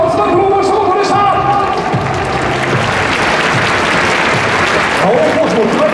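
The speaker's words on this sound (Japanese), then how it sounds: "杉本選手も吉田選手も拍手いただきまして、どうもありがとうございます。" Crowd applause at a Japanese baseball stadium during the 2021 Japan Series Game 4 pregame. The clapping is steady and broad, with crowd noise and some voices mixed in throughout.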